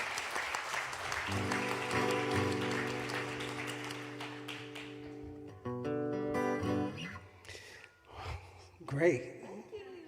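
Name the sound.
audience applause after a song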